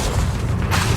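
A Bombarda spell explodes in Hogwarts Legacy, giving a loud, dense, roaring blast that fills the whole second with heavy rumble and hiss.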